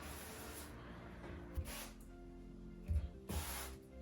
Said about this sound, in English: We're gonna take our avocado oil, just a little spray on, just get it on the outside of these.